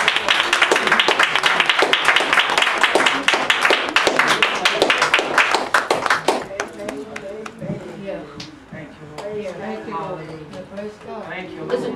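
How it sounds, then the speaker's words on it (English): Dense, rapid hand clapping from a church congregation fills the first half, loud and sustained, then gives way to music and voices. "Let's give God a hand clap."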